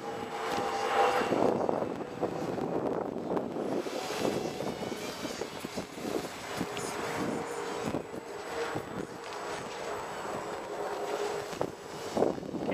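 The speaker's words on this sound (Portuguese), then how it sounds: "Nossa, que ventania!" Strong wind roars steadily across the microphone for the whole stretch, a loud continuous rushing with gusty swells and no voices.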